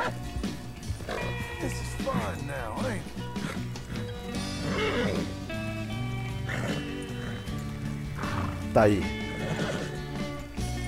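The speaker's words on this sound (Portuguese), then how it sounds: "Esse cavalo aqui, Jack, é um nocota e bem difícil de achar por aí." A wild blue-roan Nokota horse in the Red Dead Redemption game whinnies several times amid steady game music, with someone talking over it throughout.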